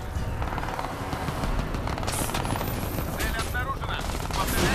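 Helicopter and gunfire in the video game Crysis 2 make a dense, loud rattle of shots over rotor rumble that builds toward the end, with no clear speech.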